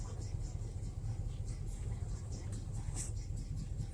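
A 1984 Chevy Silverado C10 pickup idles low and rumbling as it eases slowly out of a garage, a steady engine drone with faint clatter, and no talk over it.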